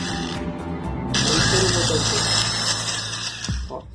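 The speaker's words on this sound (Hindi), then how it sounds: "सेकंड वाले को भी आप इस तरह से ड्रिल कर रहे हो" A power drill bores a hole into a wall to mount a 20 Watt Syska LED tube light, giving a loud, close, steady whine that starts after a moment, runs for a few seconds and then stops.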